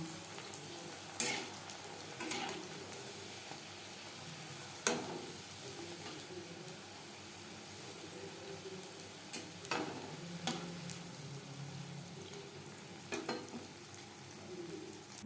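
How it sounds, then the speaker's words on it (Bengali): Fuchka puris frying in hot oil give a steady, soft sizzle throughout, broken by occasional sharper ticks and clinks from a utensil turning them in the pan; no voices. "এভাবে প্রত্যেকটা ফুচকা ভেজে নেব"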